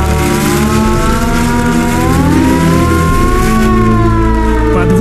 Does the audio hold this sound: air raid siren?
yes